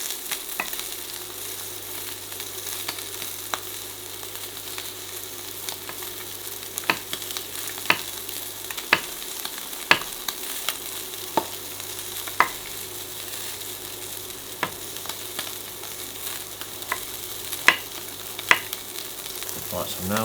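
Steak fries in a pan, producing a steady close sizzle and crackle with scattered sharp pops and spits throughout, no talking over it.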